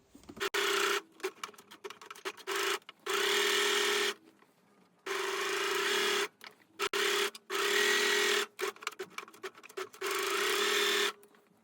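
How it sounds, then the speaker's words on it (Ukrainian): An overlock sewing machine runs in repeated bursts of a few seconds each while stitching a seam on jeans being widened at the waistband, its steady whirring motor cutting in and out with short pauses between runs. "Даємо строчечку оверлоку."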